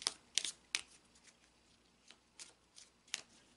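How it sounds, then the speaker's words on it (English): A deck of Kipper fortune-telling cards is shuffled by hand, giving quick crisp riffling bursts, a cluster at the start and a few more later, fairly close and quiet with faint room hiss between. "I'll go ahead and shuffle the cards really quickly"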